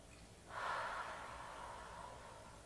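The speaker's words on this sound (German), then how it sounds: "Wir atmen tief durch die Nase ein und durch den Mund wieder aus." A single slow, deep breath, drawn in through the nose and let out through the mouth, in forest air. It is soft and close, with no other sound around it.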